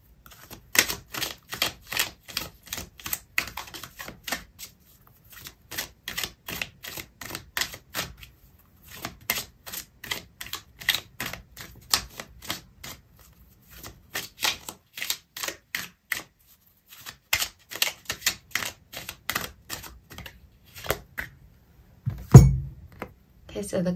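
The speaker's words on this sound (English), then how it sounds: "I'm going to pull out another card for you" Tarot cards are shuffled by hand up close, in repeated bursts of crisp riffling clicks with short pauses between them, ending in a soft thump.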